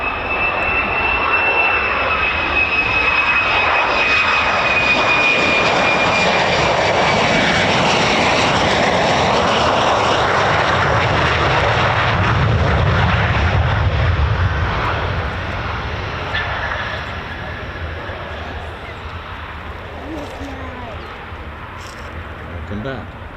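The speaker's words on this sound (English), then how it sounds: "And there another F-35." An F-35A fighter jet skims low over trees at an RAF Lakenheath air show, its loud, continuous engine roar swelling, holding steady, then easing off as it passes.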